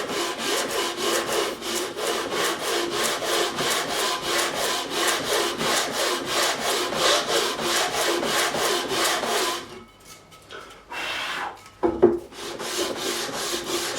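Close, loud back-and-forth rasping of 80-grit sandpaper on a bouzouki fretboard during re-fretting, in steady rhythmic strokes that pause briefly near the end before resuming.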